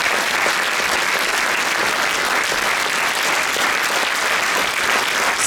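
An audience at an Independence Day celebration concert in Šilutė gives sustained, even applause for a returning pianist, a thick wash of many clapping hands that holds at a steady level throughout without pause.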